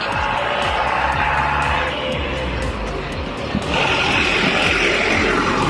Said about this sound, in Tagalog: Maingay po yung sasakyan.